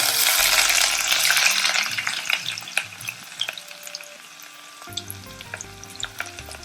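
Mustard seeds and finely chopped onion fry in oil for a crab dish, starting with a loud dense sizzle that fades to quieter crackles and scattered pops, with clinks of stirring near the end.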